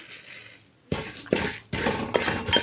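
Fenugreek seeds hit a frying pan holding a spoonful of oil while vangi bath powder is made. A close, sudden scattering rattle is followed by several bursts of crackling clatter, with no voices.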